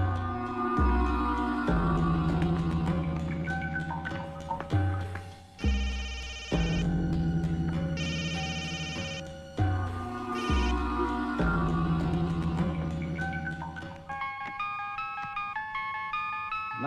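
A mobile phone ringtone plays a melodic electronic tune loudly and continuously for about seventeen seconds, with no one talking over it.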